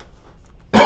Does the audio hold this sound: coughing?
yes